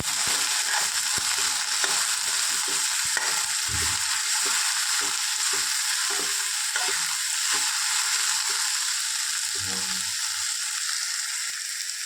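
Okra bhaji sizzles in a pan while salt is stirred in, with steady frying hiss throughout and repeated scraping, clattering strokes of a spoon against the pan, close up.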